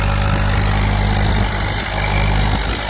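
A tractor engine running steadily in third gear during a tractor pulling contest, a loud continuous low rumble that holds level throughout with no talk.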